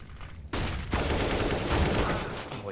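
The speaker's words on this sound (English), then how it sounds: "Exertion lines up the wall bang" In Counter-Strike, a gun fires through a wall on the Ancient map. A sharp report cuts in and is followed by dense, loud, continuous gunfire and impact noise from close by, with no talking.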